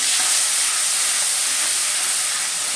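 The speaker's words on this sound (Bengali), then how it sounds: "এবার একটু জল দিয়ে দেবো।" Water poured into frying spices with salt in a pan, producing a loud, continuous steamy hiss that holds steady throughout, with no talking.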